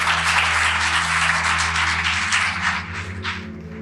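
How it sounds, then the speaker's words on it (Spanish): Church congregation applauding during a sermon, a steady, dense wash of clapping under a low sustained organ or keyboard tone, tapering slightly toward the end. "Aplauda a Cristo."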